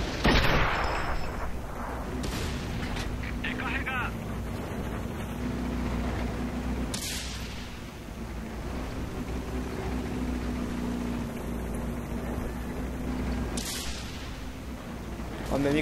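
Tank cannon fire in the game World of Tanks: a few loud, sharp booms spaced several seconds apart over a constant rumbling engine drone, with faint talk in the background.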